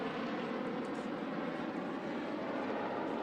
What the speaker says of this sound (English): perhaps you can hear the fighter jets continue to fly overhead the Virginia Beach Sportsplex